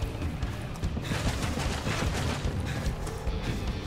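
Rapid, dense gunfire from a commando operation video game set in India, shots crackling almost continuously at a steady loud level for the whole stretch.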